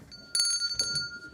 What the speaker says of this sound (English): I love my bell